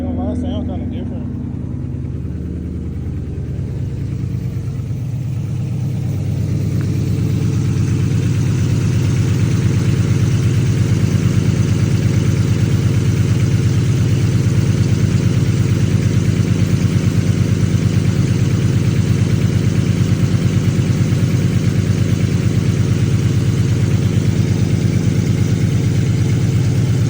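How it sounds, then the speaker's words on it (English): A Ford Crown Victoria sits idling with a steady, low, throbbing rumble close by, the engine note firming up after a few seconds and then holding evenly for the rest of the stretch. "I know y'all love the way this car sounds"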